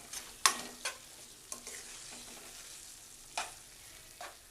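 Carrot halwa is stirred in a pan, with a few sharp scrapes and taps of the spoon spread over a quiet, faintly sizzling background, close by and without speech.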